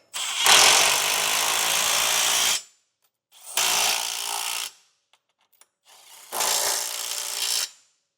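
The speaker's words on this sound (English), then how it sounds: "Now we'll take a 3/4 inch socket and snug everything down." A power tool drives a 3/4 inch socket to snug Curt Class III trailer hitch hardware on a 2020 Lexus RX 450h, making three loud, close whirring bursts of about one to two seconds each, separated by short quiet gaps.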